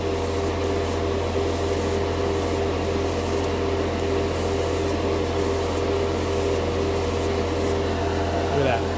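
A dual-action airbrush sprays paint with a continuous hissing, running steadily with a low hum beneath, broken by brief sputtering pulses at the top end.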